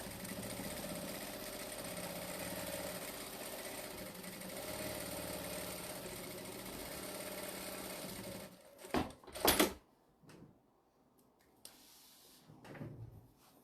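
A sewing machine runs steadily, stitching and top-stitching fabric on a faux tote bag, a continuous close mechanical whir for about eight seconds before stopping, followed by a few sharp clunks and quiet handling noises.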